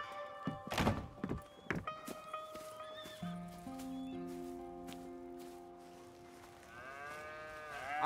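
In the video game Red Dead Redemption 2, a cow moos among horse neighs, clip-clopping hooves and thumps, with a long sustained bellow in the middle and a whinny near the end.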